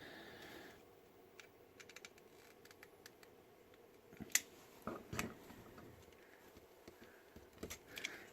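Small clippers trim excess hot glue off a circuit board, giving faint, sharp close-up snips and clicks, a few spaced cuts clustered in the latter half over quiet background.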